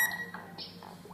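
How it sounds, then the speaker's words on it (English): A SmartBBQ2 wireless cooking thermometer sounds its food-ready alert: a short high electronic beep tone at the start, then a second brief bright beep a moment later, moderately loud over a low room background. "this device also have notification with the beep sound"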